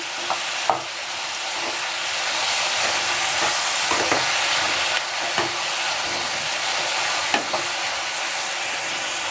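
Vegetable palya frying in a pan, a steady hiss and sizzle broken by scattered scrapes and clicks of a spoon stirring against the metal.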